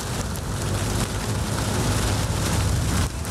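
Rain pours during a motorbike ride, a dense, steady hiss of drops and rushing air that stays loud and close throughout and eases slightly at the very end.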